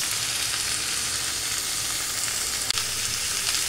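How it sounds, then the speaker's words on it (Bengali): Strained cabbage fries in hot oil in a wok, a loud continuous sizzle that holds steady throughout, broken once by a brief clack of a utensil against the pan. "এবার এটা কড়াইয়ে দিয়ে আমি নাড়তে থাকবো।"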